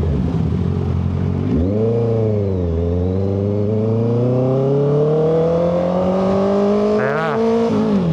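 A 2025 Honda CBR650R inline-four engine revs loudly and close, climbing steadily into the 5,000–6,000 RPM range with a smooth rising whine and a brief blip near the end.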